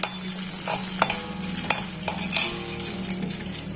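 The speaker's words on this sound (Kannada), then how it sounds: "ಬಾಣಲೆಯಲ್ಲಿ ಚೆನ್ನಾಗಿ ಹುರ್ಕೋಬೇಕು ವೀಕ್ಷಕರೇ." Dried chillies, coriander seeds and garlic dry-roast in a pan, a soft steady sizzle broken by repeated sharp scrapes and clacks of a spatula stirring against the metal, close and without talk.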